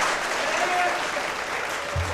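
Hands clap steadily on a lively talk-show stage debate as a judge and audience applaud, a dense even patter of moderate loudness with voices faintly underneath.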